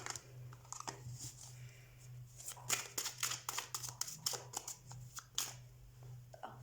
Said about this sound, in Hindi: तो सबसे पहले हम कार्ड शफल कर लेते हैं।